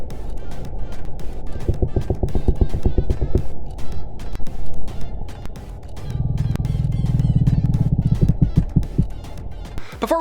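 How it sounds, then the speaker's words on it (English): Haddock recorded underwater by hydrophone give off rapid knocking pulses that speed up into buzzing trains, with a low grumbling rumble under them and a noisy deep-water background. "This is actually the sound of a species of haddock fish."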